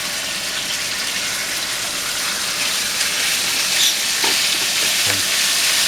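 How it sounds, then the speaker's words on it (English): Chicken pieces frying in a hot frying pan, a steady close hiss and sizzle throughout with a few soft clinks near the end, no talk. "So I'm going to go ahead and put the chicken in the frying pan."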